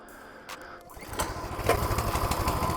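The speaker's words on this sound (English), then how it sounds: "Let's turn these puppies on, and let's get this thing rocking and rolling." A Coleman CT200U-EX mini bike's small engine catches after a brief pull and settles into a steady, close, rising putter that grows louder toward the end.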